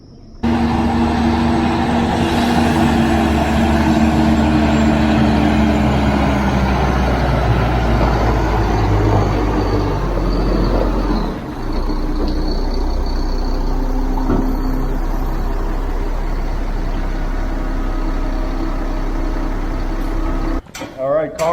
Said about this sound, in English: when they start revving that truck up, that's what money sounds like